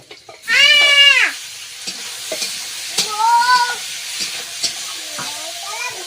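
Chopped tomato hits a hot pan and sizzles with a soft, steady hiss, while a goat bleats loudly nearby in several drawn-out calls over the frying.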